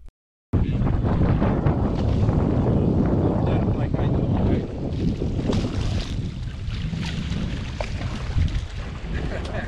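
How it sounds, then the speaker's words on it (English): Strong wind roars and buffets the microphone on a drifting fishing boat with a drift sock out, steady and loud throughout the clip, with voices faintly under it. "the wind's really cranking"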